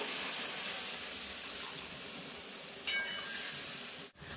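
Water pours into a pan of Bengali fish curry with raw mango to make the gravy, a steady close hiss and splash lasting about four seconds before cutting off abruptly.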